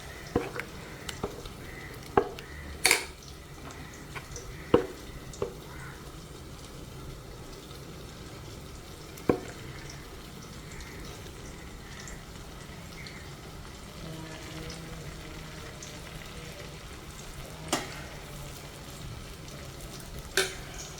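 Rice batter made from ration raw rice poured into a hot pan, giving a steady low sizzle with several sharp clinks and taps of a utensil spaced through it, with no talking.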